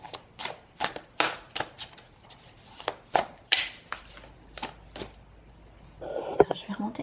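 A large deck of Dixit cards being shuffled by hand, a series of crisp, uneven riffling and slapping bursts close by, with quiet pauses between them and a brief rustle near the end.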